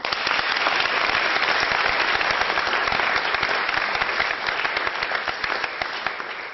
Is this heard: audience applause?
yes